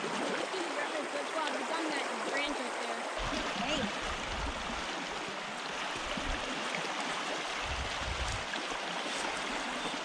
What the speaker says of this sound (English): that current is strong